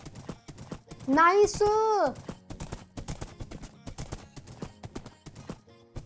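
Horse hooves in Minecraft, clopping rapidly and evenly on a ridden horse, interrupted by a loud rising and falling whinny near the start, while someone speaks briefly over the hoofbeats.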